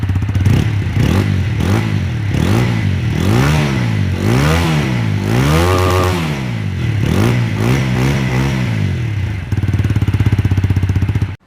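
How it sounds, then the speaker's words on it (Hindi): A 2023 TVS Apache RTR 160 4V motorcycle in sports mode revs repeatedly close by, its engine rising and falling in a steady series of throttle blips, then settling to a loud, rough idle near the end. "जैसे कि आपने 160 अपाचे की आवाज़ सुनी"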